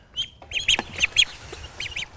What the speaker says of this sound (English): You take care of baby ducks.